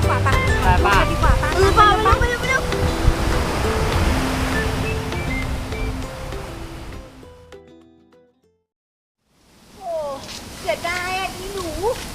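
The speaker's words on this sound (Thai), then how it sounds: "ดูดิคลื่นดันแรงซะงนั้นน่ะ" Sea waves break and wash onto the beach at Bang Saen, a broad steady roar of surf under people talking, briefly cutting out before voices and surf return.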